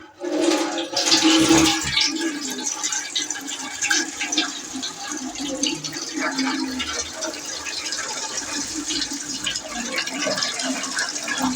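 Water pours and splashes out of a faulty Andoria S15-series diesel engine cylinder head, a loud gushing flow that peaks early then settles into a steady trickling stream, with no speech.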